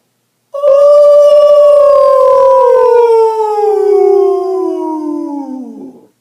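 A single sustained vocal siren imitation, a loud voice gliding slowly downward in pitch for several seconds before fading out.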